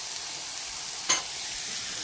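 Sliced mushrooms hitting a hot frying pan while cooking beef fajitas, a quiet steady sizzle with one brief sharper crackle in the middle, no voices.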